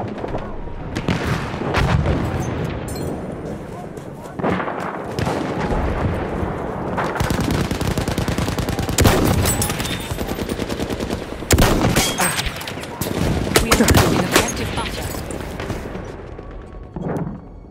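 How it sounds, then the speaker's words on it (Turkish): Machine gun fire in Battlefield 1 during a Suez conquest battle, with dense rattling bursts repeating across the scene amid heavy artillery booms and scattered rifle shots, loud and continuous with little pause. "Dikkat eyleyin makinalı tüfek!"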